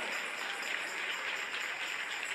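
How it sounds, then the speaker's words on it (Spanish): A church congregation applauds during a Spanish-language evening worship service, a steady dense wash of clapping from many hands that fills the whole short stretch without pause. "Dale un aplauso al Rey en esta preciosa y maravillosa noche"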